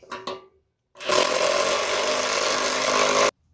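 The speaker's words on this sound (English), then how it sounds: "When you see the socket stop spinning, we'll call it tight" A power socket driving a rivet nut tight: a couple of short knocks, a brief pause, then a loud, steady mechanical whir that runs for about two seconds and cuts off abruptly.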